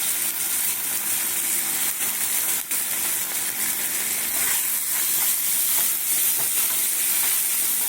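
Ginger garlic paste fries loudly in a hot pan, a dense unbroken sizzle and hiss with a brief dip partway through and light stirring scrapes underneath.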